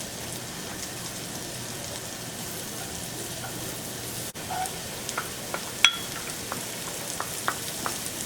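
Finely diced shallot hits a hot pan for a seafood pie, giving a steady crackling sizzle throughout with a brief dip midway and sharper pops and spatters in the second half.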